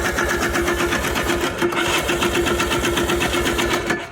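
A Polaris Trailboss 250 ATV engine, half choked, runs steadily up close with a fast, even, loud chugging beat that never lets up.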